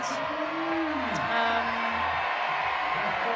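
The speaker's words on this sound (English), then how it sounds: "And you can hear the crowds. Everyone is going crazy" Crowd at a Chamonix lead climbing semi-final cheers and whoops, a loud sustained roar with rising shouts and scattered yells from a large outdoor audience.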